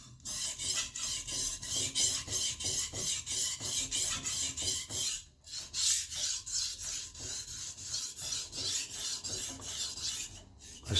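A chef's knife is ground and sharpened with quick, evenly spaced rasping strokes, roughly two per second, close and continuous with a brief break midway, with no voices.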